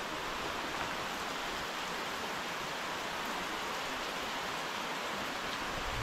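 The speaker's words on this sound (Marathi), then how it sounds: "जोरात पाऊस" Heavy monsoon rain falls steadily in the Konkan countryside in June, a dense continuous hiss of drops on leaves and ground with no break and no voices.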